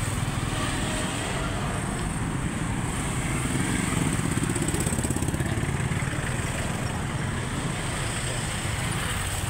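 Motorcycles and tricycles pass along a busy street in Butuan, a continuous loud engine drone with rising and falling buzzing as vehicles go by close to the listener on foot.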